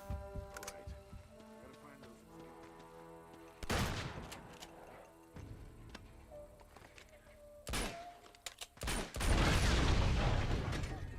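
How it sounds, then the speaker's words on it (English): Sporadic shotgun blasts in the Uncharted video game, a few loud separated booms among mechanical clicks, thunks and background game sound, with a person talking at times. "Oh, shotgun. My old friend."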